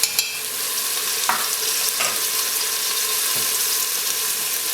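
Ginger garlic paste fries with browned onions for nargisi kofta, giving a loud, continuous close sizzle broken by a few sharp scrapes of stirring.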